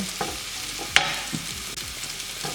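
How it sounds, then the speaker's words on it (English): Bitter melon frying in hot coconut oil, a steady crackling sizzle with several stirring scrapes and one sharp clink, close and continuous, no talk. "When the oil is well heated, add the bitter melon."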